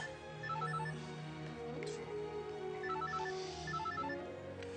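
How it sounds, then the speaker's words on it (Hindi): A telephone rings in a home during a Hindi TV drama. The ringing is steady, repeated and at moderate loudness, with tonal beeps over a soft background of music or room sound and no clear talk. "आस्था का फोन"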